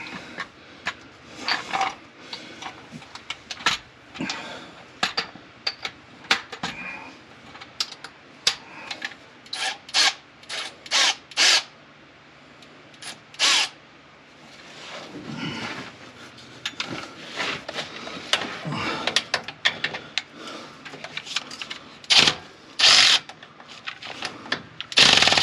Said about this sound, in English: And just use this electric ratchet I finally got here.